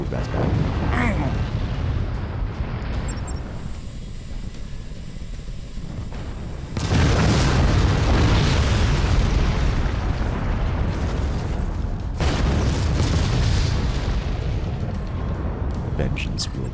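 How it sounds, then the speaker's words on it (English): A starship blown up in the space-battle game Forts, a dense roaring explosion with rumbling bursts that swells loudly midway and continues, while someone talks over it. "They blew up my starship."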